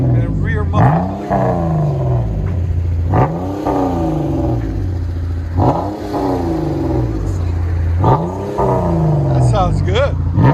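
A 2015 Chrysler 200 S V6 with a dual exhaust and Vibrant muffler revs repeatedly in rising and falling roars, about five distinct blips, loud and close from outside, with a voice talking over it.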